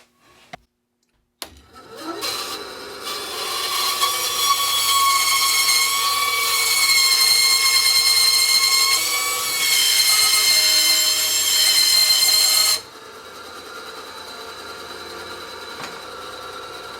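Band saw or scroll saw cutting a wooden napkin ring blank, a steady whining buzz with a tonal ring that runs loud and continuous for about eleven seconds, then drops to a quieter idle hum.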